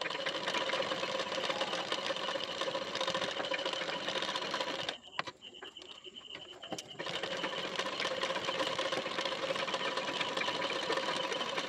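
A sewing machine stitching fabric with a steady, fast mechanical whir. It cuts out for about two seconds midway, leaving a few clicks, then resumes at the same even pace.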